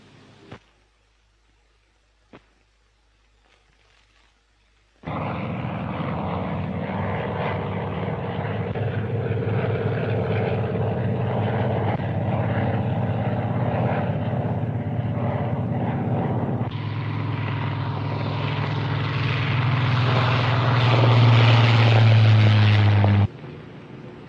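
A Vought F4U Corsair propeller fighter flies near a Royal Navy aircraft carrier in 1946. After a few quiet seconds its loud, steady engine drone starts suddenly and holds, swelling slightly louder near the end with no talking.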